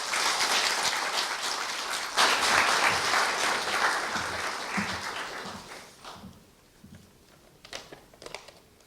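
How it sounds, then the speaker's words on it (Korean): An audience claps steadily for several seconds at a staff retirement ceremony at Korea University, the dense applause gradually thinning and fading out with a few scattered final claps. "조금생 부장님을 큰 박수로 맞이하여 주십시오."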